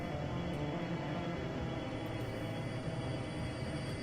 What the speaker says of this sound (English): let's head down to the subway. And let's board the train.